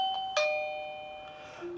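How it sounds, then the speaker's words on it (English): AOSU doorbell camera chime sounding a clear two-tone electronic ding-dong, close and fairly quiet, with ringing tones that fade out over about a second in a quiet room. "and press the doorbell"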